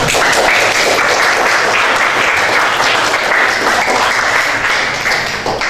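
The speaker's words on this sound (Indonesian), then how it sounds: "Itu kita semua beri aplaus untuk kalian semua." A classroom or meeting audience gives steady, dense applause for nearly six seconds, loud and close, fading slightly at the end.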